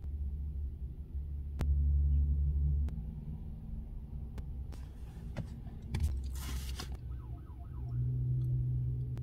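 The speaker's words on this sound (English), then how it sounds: "He accidentally turned on his fucking siren." A police patrol car siren, switched on by accident during a state police traffic stop, gives a brief warbling wail in the middle of steady engine rumble and low road noise, with no talking.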